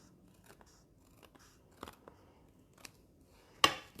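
Scissors trim a little excess gift-wrapping paper off the bottom of a wrapped Christmas present, giving a few faint, scattered snips and paper rustles, then one sharper, louder cut near the end.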